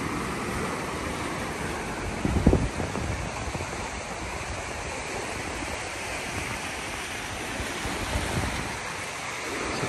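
Wind and surf on the open sand at Huntington Beach State Park in the morning, a steady broadband roar of wind buffeting the microphone with rolling waves underneath and one louder gust or wave burst near the start.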